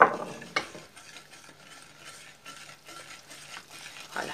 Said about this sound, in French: On va prendre le fouet maintenant pour bien amalgamer le sucre avec notre chocolat et notre beurre